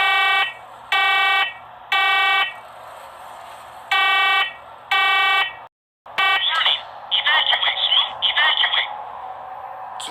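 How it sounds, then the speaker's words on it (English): Loud, high carbon monoxide detector alarm beeps sound in a steady series of bursts in a basement, then stop, followed by a person talking nearby. "Carbon monoxide detector."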